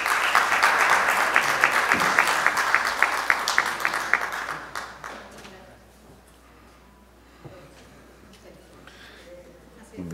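Loud applause from an audience at a formal ceremony, a dense burst of clapping for the first four seconds that fades to a quieter room with a few scattered claps and rustles.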